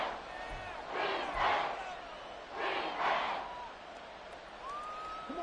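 A stadium crowd in an American football video game roars in two swelling waves of cheering, fairly loud, with a faint whistle-like tone near the end.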